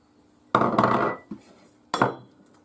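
Chopped onion tumbles into a cooking pot for lentils with chorizo, landing in two sharp clattering bursts and a small knock in between, close and clear with no talk.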